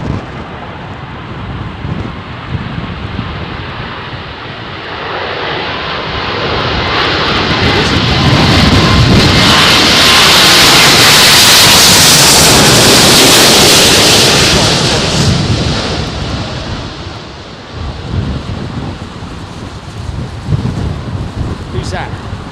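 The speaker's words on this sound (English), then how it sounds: "Older 777s in British Airways fleet," British Airways Boeing 777-200 landing at Heathrow in a crosswind: a loud jet roar that swells over several seconds, peaks, then fades, with wind noise throughout and people talking faintly.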